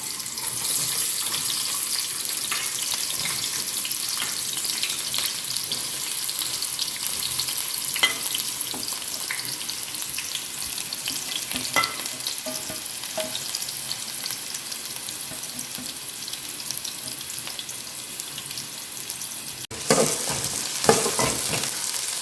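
Onions frying in a generous pour of hot oil for a mutton dish, a steady close sizzle and crackle running throughout with occasional stirring scrapes and a brief louder clatter near the end; no talking.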